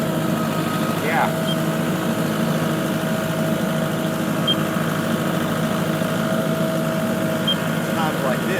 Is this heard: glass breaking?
no